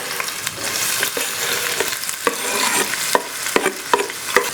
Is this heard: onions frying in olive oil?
yes